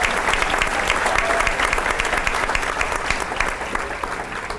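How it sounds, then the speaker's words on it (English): Warm round of applause at a Teacher of the Year banquet, honoring group presentation ambassadors: a room full of people clapping steadily and fairly loudly throughout, without letup. "Now let's give our group presentation ambassadors a huge round of applause"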